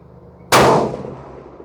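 A Savage Model 10 GRS tactical rifle in 6.5 Creedmoor, fitted with a muzzle comp, fires one sharp, loud, close shot on a range. The report rings out and fades over about a second, with no talking.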